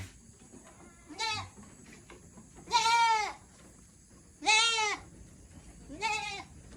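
Four separate farm goat bleats with short gaps between them, loud and near, each a quavering nasal cry against quiet background.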